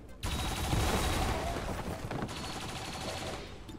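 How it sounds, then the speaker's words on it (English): Turrets fire in the XCOM 2 video game, a dense sustained burst of automatic gunfire that starts abruptly and rattles on loudly throughout. "It could shoot every single round so far."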